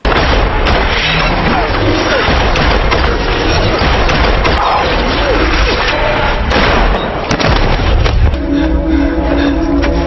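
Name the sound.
gunshots in a film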